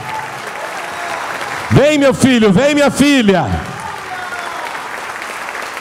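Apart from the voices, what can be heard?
church congregation applauding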